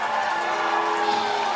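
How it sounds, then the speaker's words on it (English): Louisville softball fans cheering at Firestone Stadium during a state semifinal game, a steady broad roar of crowd noise with a few whoops, heard from a distance. "Oh, how about the Louisville crowd now?"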